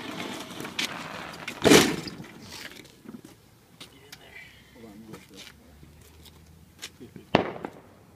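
Two sharp firework bangs burst out a few seconds apart, with crackling and scattered pops between them and voices talking in the background.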